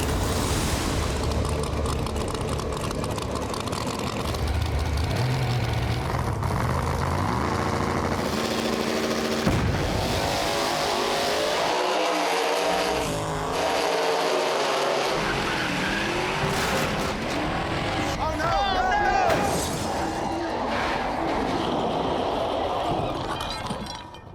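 Drag race cars on big tires launch hard and tear down the track with a loud, continuous engine roar, brief tire squeal and a short dip before the roar surges back.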